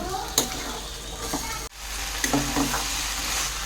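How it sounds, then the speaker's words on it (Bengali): Fried potatoes and chickpeas stir-fry together in a pan for ghugni, giving a close crackling sizzle broken by a few spoon scrapes and clicks and one brief dip in the sound. "আলু আর বুট একসাথে সুন্দর করে কষিয়ে নেব।"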